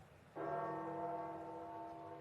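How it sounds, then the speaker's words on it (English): A church bell tolls over St. Peter's Square in Vatican City, one strong ringing strike starting a beat in and its rich tone lingering and slowly fading, heard alone without speech. "you'll hear gongs of the bell"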